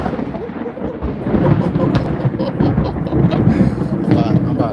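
Thunder rolls outdoors as a low, continuous rumble lasting several seconds, loud and broad, with some wind noise mixed in.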